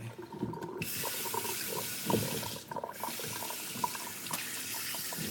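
Tap water running into a sink to bathe a Yorkie, a steady close-up gush and splash that shifts briefly as hands pass under the flow, with no talking.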